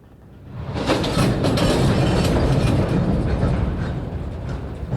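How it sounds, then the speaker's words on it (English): A heavy rumbling train noise builds and holds steady as a train starts moving, with faint metallic clanks of car couplers grabbing and rattling running through the broad roar. "they make quite a bit of noise as the couplers on the ends of each train car grab each other"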